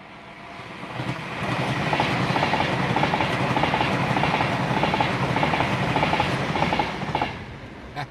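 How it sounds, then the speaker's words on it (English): An Avanti West Coast class 390 Pendolino bound for London Euston rushes past close by, a loud, sustained roar with rhythmic wheel clatter over the rails that builds, holds for several seconds and then fades. "Here it comes, and this is a Pendolino going to London Euston. Avanti West Coast, class 390."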